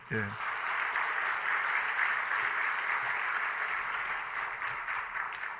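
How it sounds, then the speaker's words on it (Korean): A church congregation at a Sunday evening service applauds steadily, a soft, even wash of many hands clapping at a moderate distance, continuing for several seconds. "다시 한번 박수로 한번."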